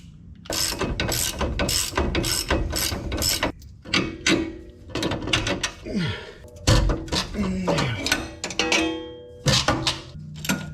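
A ratchet wrench with an 18mm socket tightens a bolt on Jeep suspension, clicking in rapid bursts of pawl ratcheting with pauses and occasional metallic clunks, close and fairly loud.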